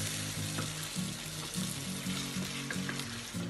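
Vegetables frying in a sweet and sour sauce for Chinese-style chicken, a steady sizzle with faint bubbling and soft scrapes, close and continuous with no talking.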